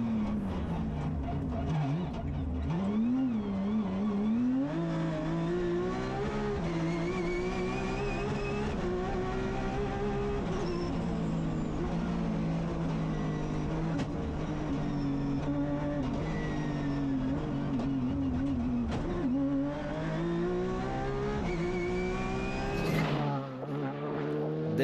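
A rally car engine roars close and loud on a Belgian Rally Championship 2022 TAC stage where a Ford Fiesta is overtaken, its pitch rising and falling through repeated gear changes in one continuous run, ending with a brief drop.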